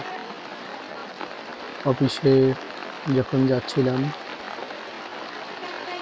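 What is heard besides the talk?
rain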